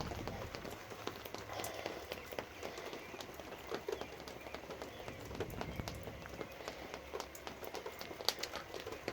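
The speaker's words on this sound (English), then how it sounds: "thankfully, we're in the shanty because it is raining" Steady rain falls outside a shanty on a wet, miserable day, a dense hiss of drops with scattered sharper patters on the roof and surfaces, continuous and fairly close.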